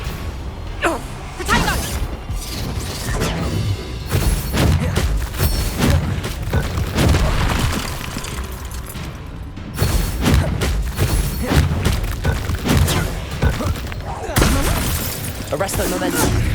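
Repeated fiery spell blasts from Confringo casts in Hogwarts Legacy, a dense run of booms and shattering cracks with crashing impacts through a loud combat mix, with voices shouting over the fight.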